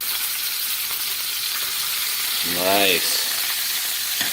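Burger patties searing in an unoiled pan just after flipping, a continuous loud close sizzle with a brief spoken remark partway through.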